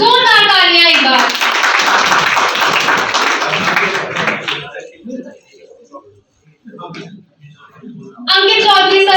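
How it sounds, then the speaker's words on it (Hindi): Applause from the audience at a journalists' honour ceremony, a dense burst of clapping that swells for about four seconds and then thins out into scattered claps, with a voice talking briefly before and after it. "जोरदार तालियां एक बार।"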